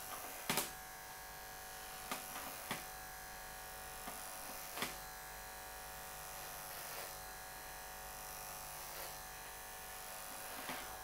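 Electric shaver running over a head to remove the hair, a continuous close buzzing hum with a few brief clicks and bumps as it moves across the scalp.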